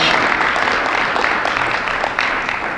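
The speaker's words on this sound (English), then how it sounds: "how about a round of applause for Greg Pontius just for his work" Loud, close audience applause at a high school faculty Hall of Fame ceremony, a thick, continuous mass of clapping from a large crowd filling the whole moment.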